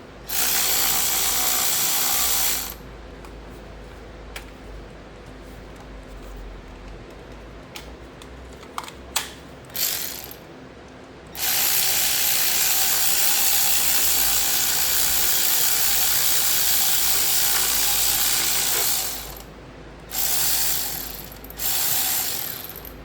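Ratchet wrench working 10 mm bolts off the alternator of a Volvo XC60, bursts of fast, close clicking lasting several seconds each, separated by quieter pauses with brief knocks and handling noises.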